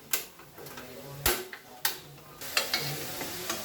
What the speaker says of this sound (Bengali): আমরা এগুলোকে একটু মিক্স করে নিব, নাড়িয়ে চাড়িয়ে নিব